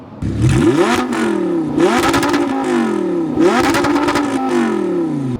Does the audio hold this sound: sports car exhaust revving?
yes